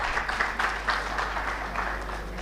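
A conference hall audience gives a modest round of applause, a thin, uneven patter of clapping at moderate level that continues steadily for a couple of seconds over a low hum.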